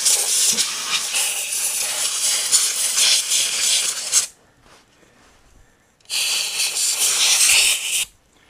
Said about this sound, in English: I'll get the air compressor going so I can just clear it up.